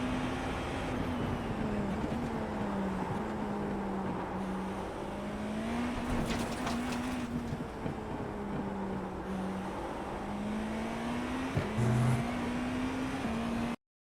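An iRacing GTP prototype at full speed through turns 2 to 5 at Sebring in a racing game, its engine a steady high drone that rises and dips with each gear and corner, loud and continuous.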